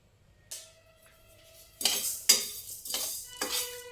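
A spoon scrapes and clinks against a pan while cumin seeds and spices warm over a medium flame, with several sharp metallic taps and stirring strokes, close and alone.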